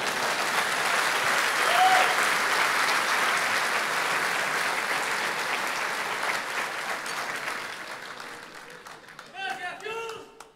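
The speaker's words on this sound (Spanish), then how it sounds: "Den un aplauso fuerte." A church congregation bursts into loud applause during a sermon, and the clapping gradually thins and fades. Voices speak over it near the end.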